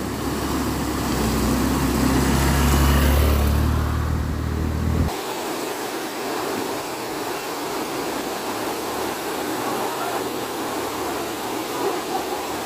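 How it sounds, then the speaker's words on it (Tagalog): A motorcycle coming back along a road, its loud, close engine rumble and whoosh filling the first five seconds before cutting abruptly to a steady, faint hiss of background noise. "Bumalik yung nakamotor."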